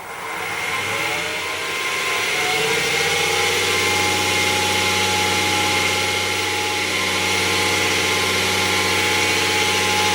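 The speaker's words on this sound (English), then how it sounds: "Then I'll speed up the lathe and polish." Wood lathe spinning up to higher speed while a pen blank is polished, starting with a low rumble that rises into a loud, steady mechanical drone with a motor whine and a faint rubbing hiss.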